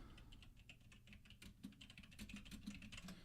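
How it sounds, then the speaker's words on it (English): Fast, steady typing on a computer keyboard during a Tiny Toon Adventures tournament stream, with crisp clustered key clicks running throughout, close and fairly quiet, with no speech. "A little typing for you guys."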